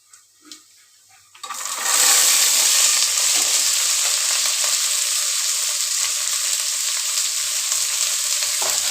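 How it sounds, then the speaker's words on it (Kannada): Field beans tipped into a pan of fried onions, starting with a few quiet knocks, then a sudden loud sizzle that surges up and holds steadily to the end, close by with no talk. "ಈರುಳ್ಳಿ ಎಲ್ಲ ಫ್ರೈ ಆಯಿತು ಆಮೇಲೆ ಕಾಳು ಹಾಕ್ಕೊಳ್ತಾ ಇದ್ದೀವಿ"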